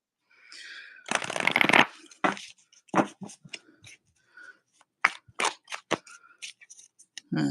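A deck of tarot cards is shuffled in quick, crisp riffling bursts with a longer rush near the start, then scattered short snaps and flicks close by, with no talking.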